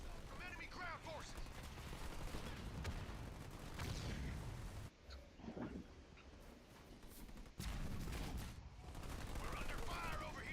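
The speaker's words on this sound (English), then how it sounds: "We're under fire from enemy troops!" Enemy troops fire in a video game, a dense, continuous rattle of shots and distant booms with brief lulls, while in-game voices call out alerts over the noise.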